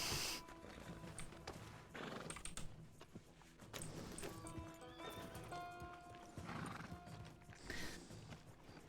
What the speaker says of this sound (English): Oh look, there's my horse.